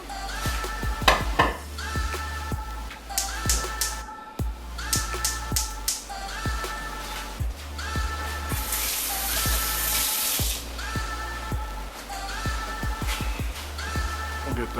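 Pepper jack and cheddar cheese are stirred into a cooking dish, with repeated scraping and clinking of a utensil against the pan over a low background hum and a brief hiss midway.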